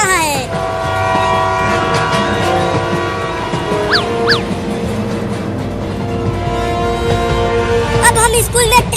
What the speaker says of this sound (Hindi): देख ट्रेन धीरा हो रहा है।